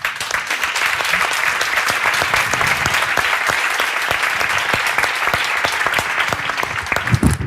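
Audience applause after the presentation of a short film, a loud, sustained wash of clapping from many hands that holds steady throughout with no talk.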